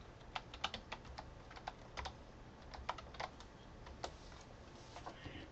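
Quiet keystrokes on a computer keyboard come in short irregular bursts, with close, soft clicks and no one talking.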